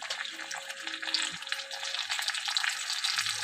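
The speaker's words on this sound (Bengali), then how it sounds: "মাছের মাথাটা বেশ ভালো করে ভেজে নেব" A fish head fries in a pan, giving a steady close sizzle with light crackles and some stirring noise, no voices.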